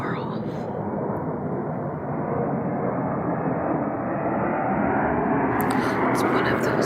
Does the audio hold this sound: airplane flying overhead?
yes